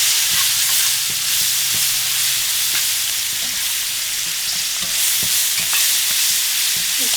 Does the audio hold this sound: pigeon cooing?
no